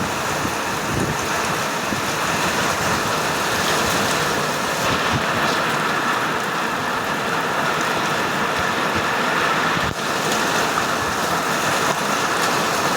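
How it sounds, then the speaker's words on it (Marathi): Dense, steady rain noise at Manur fills the whole stretch, broadband and unbroken, with gusts of wind buffeting the microphone. "इतक्या जोराने पाऊस चालू आहे"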